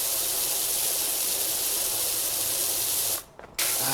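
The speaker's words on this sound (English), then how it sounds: "I'll just change the angle at which I'm spraying." A pressure washer sprays a baseboard with a steady, loud, close hiss of water jetting against the surface. The spray cuts off briefly near the end, then resumes.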